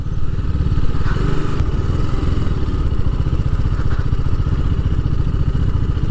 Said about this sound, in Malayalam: അവിടെ ഏതോ സൂപ്പർ ബൈക്ക്